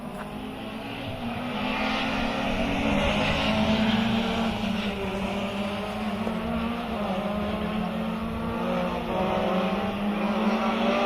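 A World Rally Car on a Rally Costa Blanca stage, its engine a loud, sustained roar that holds steady throughout, broad and close-sounding with no speech over it.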